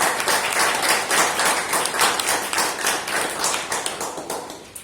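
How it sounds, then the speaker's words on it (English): An audience at a stammering support group's public speaking meeting gives a speaker a round of applause. The clapping is dense, steady and close, with no voices, lasting the whole stretch. "round of applause."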